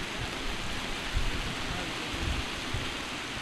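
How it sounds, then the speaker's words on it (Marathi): Heavy rain showers pour down steadily over an outdoor cricket match, a dense continuous hiss with a few low rumbling gusts, heard alone without talk. "पावसाच्या सरी आता जोरदार कोसळायला लागल्यात"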